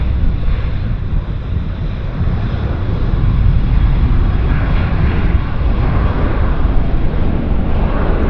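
An airliner takes off at Vancouver Airport, a loud, sustained low engine rumble with wind buffeting the microphone and no voices.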